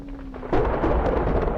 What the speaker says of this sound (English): A thunderclap follows close behind.